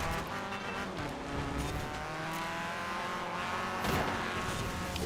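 A mini buggy's engine in Forza Horizon 4, droning and revving steadily at high pitch as it drives, with a brief burst of tire or surface noise near the end and no talk over it.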